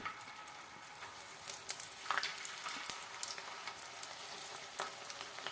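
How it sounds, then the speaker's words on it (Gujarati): Steady crackling sizzle of french fries frying in hot oil in a kadai, with scattered pops and sputters throughout, close and fairly quiet. "તો હવે આમાં એક એક કરતાં આપણે ફ્રેન્ચ ફ્રાઈને નાખી દઈશું."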